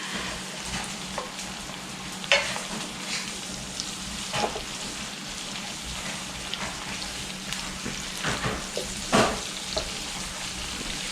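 Butter melts and sizzles in a pan as the base for a gravy roux to go with Salisbury steak: a steady, close frying hiss with occasional small pops and stirring scrapes, and no talking.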